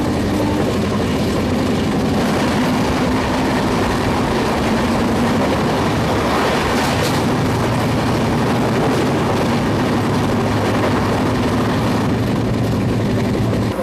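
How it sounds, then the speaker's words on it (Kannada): The Mysuru Superfast Express, running from Jaipur to Mysuru near Channapatna, passes on a crossing track. It makes a loud, steady rail rumble with broadband clatter that holds for the whole stretch, with no voices. "ನಮ್ಮ ಟ್ರೈನ್ ಜೊತೆ ಕ್ರಾಸಿಂಗ್ ಐತಿ ಜೈಪುರಿಂದ ಮೈಸೂರಿಗೆ ಹೋಗುವಂಥ ಮೈಸೂರು ಸೂಪರ್ ಫಾಸ್ಟ್ ಎಕ್ಸ್ಪ್ರೆಸ್"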